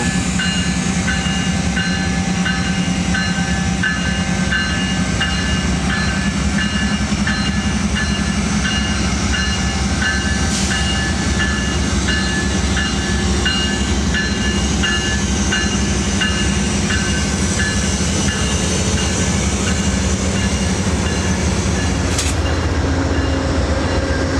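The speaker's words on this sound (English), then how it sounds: "the train departs for Chicago" An Amtrak passenger train departs for Chicago near Denver, rumbling loudly and continuously with a steady low engine drone, rolling wheel noise and occasional squeals, with no voices.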